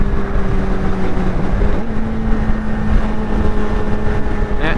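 A Suzuki GSX-R600 motorcycle engine running at raised revs, a close, steady buzzing drone with small shifts in pitch and no talk over it.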